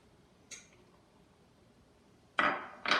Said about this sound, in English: Now you gotta stir it with the mashed bananas.